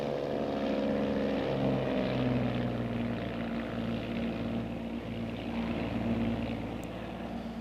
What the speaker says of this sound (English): Twin Bonanza 696 Tango's airborne 25 left